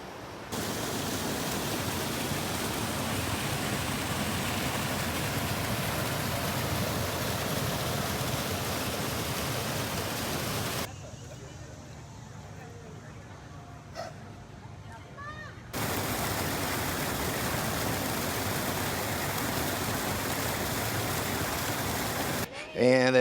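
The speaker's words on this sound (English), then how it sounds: "we are right on the falls. So we get to listen to the water kind of crash" A waterfall crashing right beside an outdoor farmers market booth, a steady broadband roar that runs loud and unbroken, dropping away briefly in the middle before returning.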